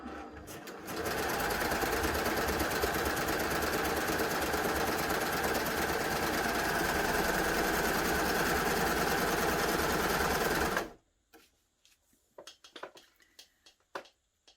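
Baby Lock Gloria combination cover stitch and overlocker running at speed, a loud continuous rapid mechanical whir for about ten seconds that stops abruptly, leaving faint handling clicks.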